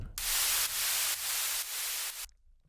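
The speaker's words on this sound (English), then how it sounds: "And then we have this noise down thing." White noise down-sweep effect from a melodic techno track, loud synthesized hiss that surges in several pulsing swells for about two seconds and then cuts off abruptly.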